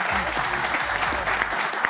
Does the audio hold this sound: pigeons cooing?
no